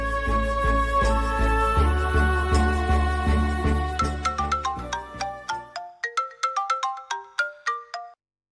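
A mobile phone ringtone plays a melodic electronic tune, loud and steady at first, then repeating as bright separate chiming notes that end abruptly, with no voices.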